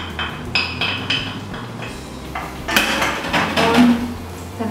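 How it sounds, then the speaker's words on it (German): Clattering and clinking of a pan as chopped onions and garlic go into a hot pan with coconut oil, with a louder burst of sizzle and metal knocks toward the end; no talking. "Also als erstes nehmen wir hier Zwiebeln und Knoblauch und tun das in die heiße Pfanne."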